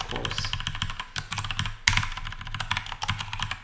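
Fast, continuous typing on a computer keyboard while code is entered gives dense, even key clicks close to the listener, with one sharper key strike near the middle and no voices.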